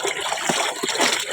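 Clothes being rinsed by hand in water, giving a short stretch of close sloshing and splashing.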